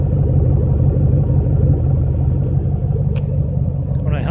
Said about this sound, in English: just listen to those aftermarket Flowmaster exhausts